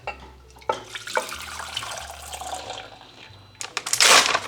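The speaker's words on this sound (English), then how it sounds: "Carefully try and pour the sauce into this pot." Taco sauce is poured into a cooking pot with a splashing, gurgling liquid flow, close by and fairly loud, ending in a heavier burst of pouring.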